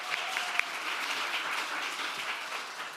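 Audience applause at a parliamentary forum on restoring teachers' political rights, a dense, sustained clapping from a small crowd that carries on for the whole stretch with a few sharper individual claps.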